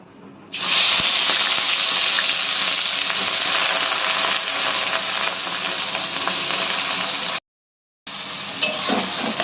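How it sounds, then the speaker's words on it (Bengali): Finely chopped small onions hit hot oil in a pan and fry with a loud, steady, close sizzle that carries on continuously, cutting out once briefly before resuming. "এই পেঁয়াজ কুচোটা আমরা এবার দিয়ে দিলাম।"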